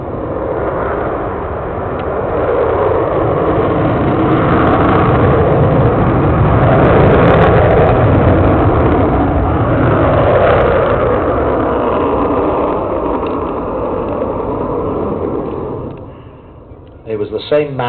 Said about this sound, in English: It's going to be turning away from us on the 45-degree line and then going to full power for a full-up wing over.